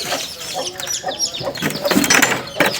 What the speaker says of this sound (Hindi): बच्चे पकड़ रहे हैं मुर्गी के।